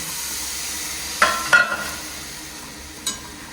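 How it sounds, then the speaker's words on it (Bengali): Water poured onto sautéed potatoes sizzling in a pan, a steady low fry punctuated by a few sharp hissing bursts and clatters as the liquid hits the hot oil. "এইদিকে পটলের আলু কষানো হয়ে গেছে, দিয়ে দিচ্ছি জল"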